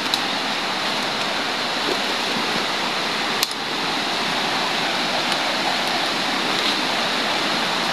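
Steady, loud rush of river water flowing close by, a broadband wash with no talk, briefly broken by a single sharp knock partway through.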